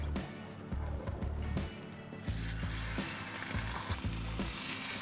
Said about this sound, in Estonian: Veise siis pruunistame ilusti igast küljest, et mahlad ilusti kinni jääks.